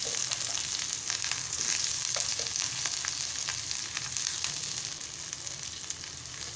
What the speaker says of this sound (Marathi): कांदा थोडा तेलात आपण भाजून घेऊया।